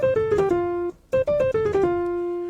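Piano chords played with both hands and no slap, in two short descending phrases of quick stepping notes that settle on a held, ringing chord, clear and close, with no voices.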